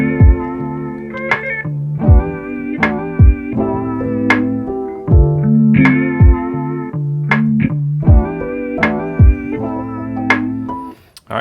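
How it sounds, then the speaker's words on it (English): Lofi piano chords over a chopped sample, warped by a wow and flutter effect that makes the pitch waver, with punchy drum-like hits recurring at a steady, relaxed groove and no talking. "All right, so together our chop and that piano with the wow and flutter sounds like this."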